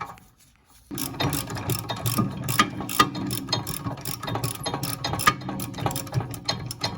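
A ratchet clicks rapidly and steadily while an M14 tool breaks loose the rear caliper bracket bolts on a Volkswagen Passat, close and clear after a brief quiet start.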